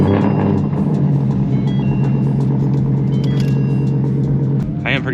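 A Ford S550 Mustang GT V8 fitted with an X pipe rumbles loudly from outside, a steady deep idle burble with a brief shift near the end.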